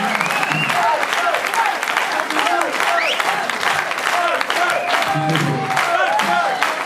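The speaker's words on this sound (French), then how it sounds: "On peut l'applaudir." An audience applauds at a club's tenth-anniversary celebration: steady, dense clapping holds loud and unbroken for several seconds, with scattered voices and a few cheers mixed into the ovation.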